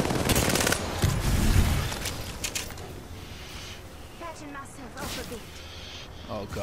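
Rapid bursts of automatic gunfire in a battle royale video game, loudest in the first two seconds and then trailing into scattered, quieter shots, with voices in the background.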